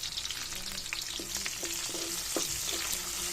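Onions sauté in a hot pan over garlic already browned, for adobong sitaw: a steady broad sizzle with scattered sharp spatters and a few scraping stirs, close and fairly loud, no voices.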